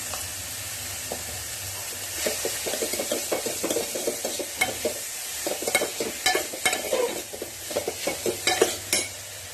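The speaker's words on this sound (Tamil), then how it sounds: "பீர்க்கங்காய் போட்டதுக்கு அப்புறமா மஞ்சத்தூள் உப்பு போட்டுட்டு ஒரு 2 நிமிஷத்துக்கு நல்லா வதக்கினதுக்கு அப்புறமா" Chopped ridge gourd stirred and sautéing in a pan with turmeric and salt, a steady close sizzle under repeated scraping and clinking of a spatula against the pan, with no voices.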